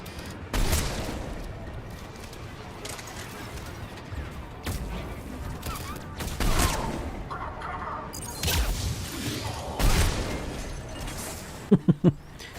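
Gunfire against Cerberus enemies in Mass Effect 3, with sharp shots and bursts scattered irregularly across the stretch and booming impacts between them, plus a quick cluster of clicks near the end.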